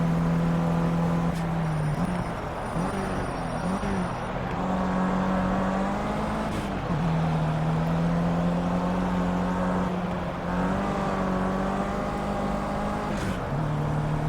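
Racing car engine in the video game Project Cars, a steady loud drone whose pitch rises and dips through gear changes and throttle lifts, continuous for the whole stretch with no talk over it.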